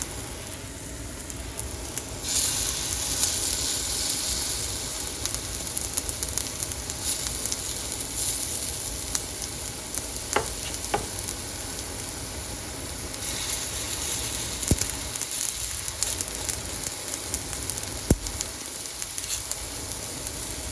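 Eggs frying in a pan while breakfast is cooked, a steady close sizzle with crackling that swells and eases, broken by a few sharp clicks and taps of utensils, with no talking.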